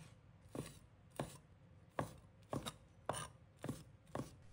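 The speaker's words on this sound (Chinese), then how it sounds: "再切成小块" Pitted red dates are chopped into small pieces on a board, about eight soft, evenly spaced knife thuds, close and quiet.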